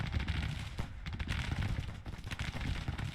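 Dense crackling musket volleys from massed infantry in the Civil War strategy game Grand Tactician, a continuous rolling fusillade of overlapping shots with scattered louder reports, steady and sustained throughout.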